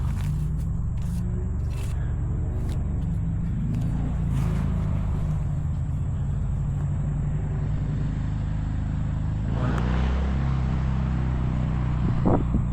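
A car drives past on a road near a park, its broadband engine and tire roar holding steady at close range under wind buffeting on the microphone, with a brief rise in noise near the end.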